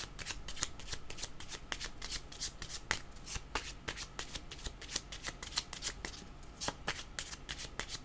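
Cards being shuffled during a card reading, a steady run of quick riffling flutters and soft slaps repeating close up, with no talking.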